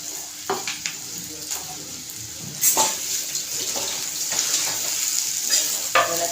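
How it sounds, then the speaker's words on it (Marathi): Chilli and onion frying in a pan while moringa leaf curry is made, with a steady close sizzle and intermittent scraping stirs and clinks of a spatula, no talking. "छान लाल करून घ्यायचं मिरची आणि कांदा"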